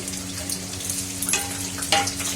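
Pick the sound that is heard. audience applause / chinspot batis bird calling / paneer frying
paneer frying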